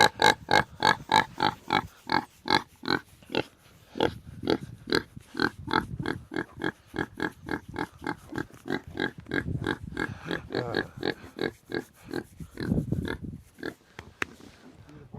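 Pigs grunt over and over in rapid, rhythmic bursts, close by, with squealy snorts and a low grunt near the end.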